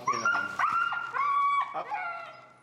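An extremely vocal feral husky on a leash whining and yipping: a continuous run of high, wavering whines broken by short sharp yips, loud and close, without any talking.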